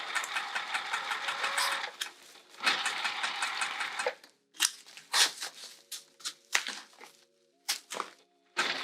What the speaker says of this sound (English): And now I'm going to move all these layers as I'm sewing.